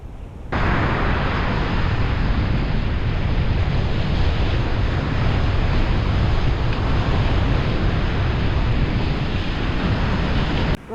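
Strong storm wind roars across an open beach at Southbourne during Storm Gerrit, a dense, unbroken buffeting rush that blasts the microphone from start to finish with no voices.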